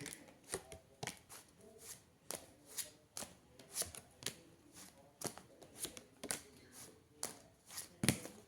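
Tarot cards are shuffled by hand in a rapid series of soft, crisp riffling snaps and taps, close up and fairly quiet, with no voice.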